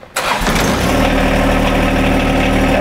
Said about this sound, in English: First thing we wanna do is we wanna fire up our machine.